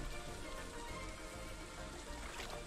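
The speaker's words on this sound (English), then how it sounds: "I should lower the volume of the rain." Steady rain hiss in Stardew Valley with a dense patter of drops, continuous and fairly quiet throughout.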